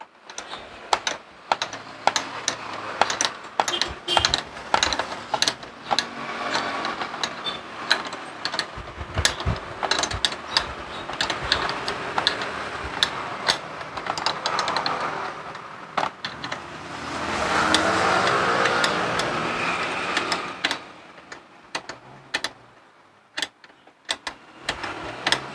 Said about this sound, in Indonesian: Terus kita kencangi pakai kunci.